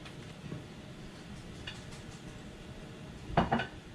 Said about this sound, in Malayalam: ഇനി ഞാനിത് അടപ്പ് വെച്ച് മൂടി വെച്ച് ഒന്ന് വേവിച്ചെടുക്കും.